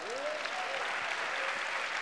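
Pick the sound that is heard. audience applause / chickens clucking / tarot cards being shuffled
audience applause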